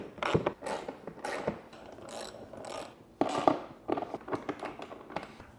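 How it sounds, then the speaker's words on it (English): A ratchet tightens nuts while a sofa is assembled, giving a quick series of close clicking bursts with short pauses between them. "we're gonna tighten up those nuts"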